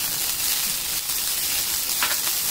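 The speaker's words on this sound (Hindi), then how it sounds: "पुलाव बनाने के लिए 2 टेबल स्पून घी डालिए, ग्रीन चिली पेस्ट भी जीरा डाल दीजिए। इसे मिक्स करने के बाद उसमें ग्रीन कुक किया हुआ ग्रीन राइस डाल दीजिए" Cooked green rice sizzles in hot ghee with cumin and green chilli paste, a steady, bright frying hiss with a few louder crackles near the end.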